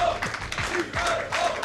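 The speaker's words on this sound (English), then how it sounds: "give the crowd one more chance to cheer his name" A crowd at a StarCraft II tournament claps and cheers, a short burst of applause and scattered shouts at moderate volume, with a commentator's voice running over it.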